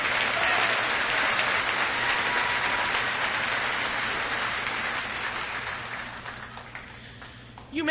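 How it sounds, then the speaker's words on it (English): Sustained applause from a commencement audience honoring student speakers, a dense, loud wash of clapping that holds steady before tapering off near the end. "Let's give a round of applause, one more, for our student speakers."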